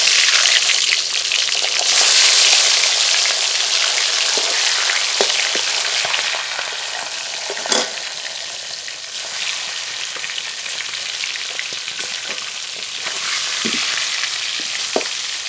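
Pangas fish pieces fry in hot oil in a pan with a dense, steady sizzle, broken by a few sharp spits and pops as it keeps going.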